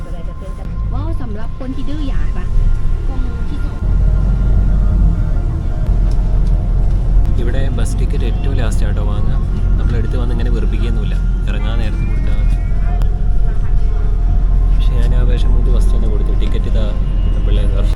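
Steady low engine rumble and road noise inside a small, old van-type bus riding through Laos, continuous throughout with someone talking over it.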